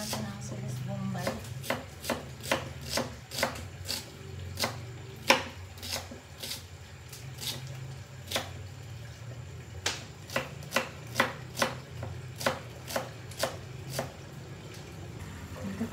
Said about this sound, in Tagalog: Hiwain muna natin ang silis bombay.